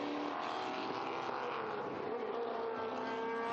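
Historic race cars in a Classic Endurance Racing 1 event at Estoril make a steady, loud engine drone throughout. It sounds like several cars running at speed on the circuit, with no break in the noise.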